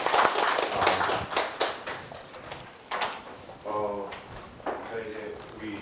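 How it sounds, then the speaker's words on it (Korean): An audience at a Korean university-admissions math briefing claps in a burst of applause, loud and close, which then breaks into scattered claps while people talk over it. "우리 최영기 대표님 박수로 좀."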